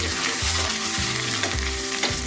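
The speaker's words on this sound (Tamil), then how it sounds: "வெங்காயம் சின்ன வெங்காயம் போட்டுக்கிறோம் நல்லா சிவக்க வருது" Shallots sizzle steadily in hot oil for mudakathan keerai soup, a dense crackling fry with a low rhythmic scraping of stirring underneath, close and continuous.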